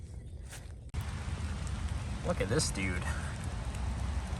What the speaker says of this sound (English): still raining if you were wondering